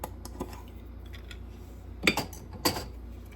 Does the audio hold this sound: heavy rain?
no